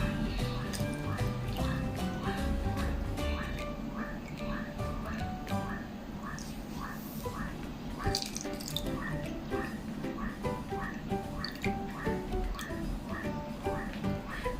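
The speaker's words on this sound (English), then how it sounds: "place the plants in glasses and pour water" Water poured over plants set in glasses, with a steady trickling and splashing of liquid running throughout, mixed with light clinks and background sounds.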